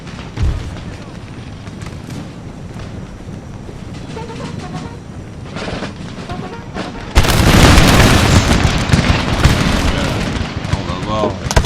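Musket volleys and cannon fire in the Empire: Total War battle game: a dull rumble with scattered booms, then a loud burst of dense crackling gunfire and blasts that carries on to the end.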